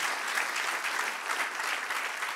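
Church congregation applause during a sermon: dense, continuous clapping fills the space at steady loudness, a full room of hands with no speech over it.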